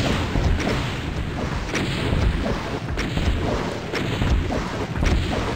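Rocket launcher fire and explosions in the 1993 game Doom on the Tower of Babel level, a string of heavy booms and crashes over a constant noisy roar, loud and close, with no talk.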